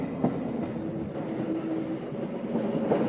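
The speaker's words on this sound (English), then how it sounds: "As the train makes its impressive journey down to Bergen, winding its way through mountains and along valleys" A train on the line down to Bergen rumbles steadily through mountains and valleys, with rhythmic wheel clatter and faint squeals over a constant low roar, close and loud.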